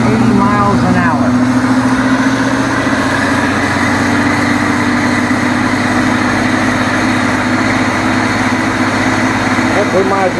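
A homemade belt sander driven by a treadmill motor runs flat out at maximum speed, giving a loud, constant motor drone with a steady low hum and no pauses.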